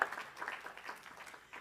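A live audience at a gathering with a band breaks into applause for a performer, a modest round of soft clapping that stays fairly even and fades slightly toward the end.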